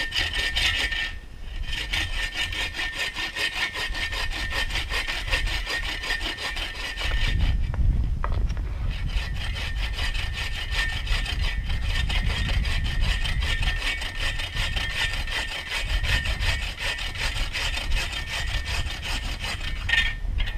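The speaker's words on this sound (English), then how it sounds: "In fact, I'll put a clean cut on this thing now." A Sven folding saw cuts through a piece of wood outdoors, with continuous rhythmic rasping strokes, loud and close, briefly pausing before resuming.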